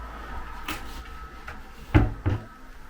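Soft-close cupboard doors on handmade baby room furniture shutting, with a couple of gentle knocks and muffled thuds near the end, close by in a quiet room.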